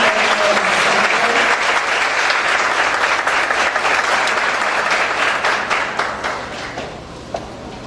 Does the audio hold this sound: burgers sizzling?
no